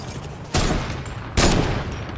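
Video game gunfire: two loud bursts of shots about a second apart, each a dense crackling volley, over a quieter steady background.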